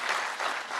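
Brief burst of audience clapping at an art museum lecture event, a steady wash of applause from a seated crowd, moderately loud and alone.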